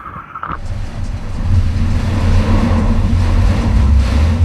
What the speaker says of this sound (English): Dude, it's fixed, it's idling!